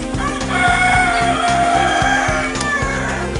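Kadaknath chickens in a large poultry shed holding grown birds, with steady fowl calls and a rooster-like crowing over a constant low mechanical hum, no talking.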